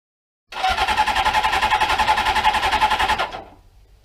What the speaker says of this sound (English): I'm not sure why the bike won't start.